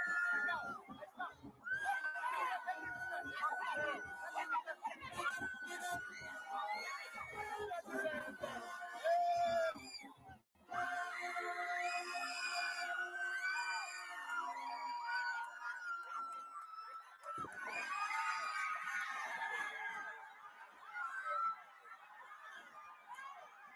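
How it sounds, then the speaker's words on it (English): A stadium crowd screams and cheers as the lights go off while a band plays, a dense, loud wash of voices and music. Talking can be heard over it, with a short drop in the middle. "They turning off the lights at the stadium. Listen to the band. Everybody screaming."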